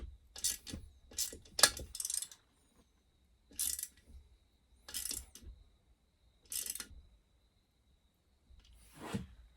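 A hand ratchet tightens a bolt during final assembly of a junkyard Super Pro 81 minibike. It makes several short, close bursts of rapid clicking, separated by pauses, with no talking.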